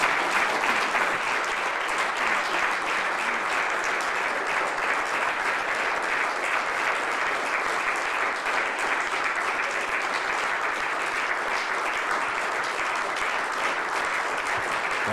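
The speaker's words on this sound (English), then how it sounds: "They're clapping." Audience applause at a crypto summit press conference, a long, even roar of many hands clapping that continues unbroken for about fifteen seconds at a distance.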